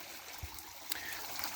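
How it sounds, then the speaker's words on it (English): Filtered water flows freely down the waterfall of a DIY koi pond in a pond garden, a soft continuous trickle and splash with a couple of faint knocks and no voices. "just free flowing filtered water."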